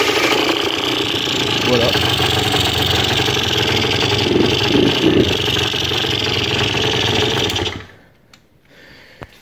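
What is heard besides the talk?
Derbi scooter engine starting and idling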